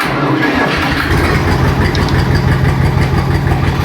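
Kentavr tractor engine just started and warming up at idle in a village, a close, loud diesel rumble with an even rapid chugging rhythm throughout, no talk.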